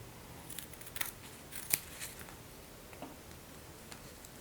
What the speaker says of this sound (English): So I'm going to trim off the bottom here so it's not hanging down so much.